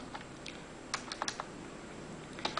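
Keys tapped on a computer keyboard while a file name is entered for an Excel export, a few quiet scattered keystrokes in a near-silent room with no talk.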